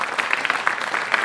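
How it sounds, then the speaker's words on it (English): Applause from an audience at a school board scholar awards event, a brief burst of dense clapping, fairly close and moderately loud. "please give them one more round of applause."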